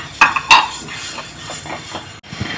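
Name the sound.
roasting urad dal in a pan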